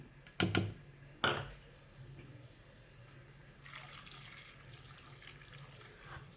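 A couple of sharp clinks, then a steady stream of water pouring into tomato sambar ingredients, running on for several seconds at moderate volume with no talking.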